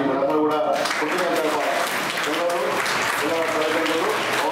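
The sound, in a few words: audience applauding for Pawan Kalyan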